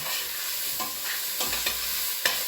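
Chili with meat and peppers is stirred in a pot over medium to medium-high heat, with a soft continuous sizzle and a few scraping strokes and knocks of the utensil, close and with no voices.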